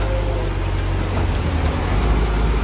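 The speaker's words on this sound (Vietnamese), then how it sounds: "Hôm nay trời mưa khá là to." Heavy rain pours down outdoors, a loud, continuous hiss of drops hitting surfaces with a low rumble underneath and no voices.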